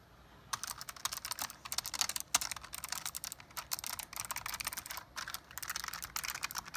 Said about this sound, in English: the clicky version of the keyboard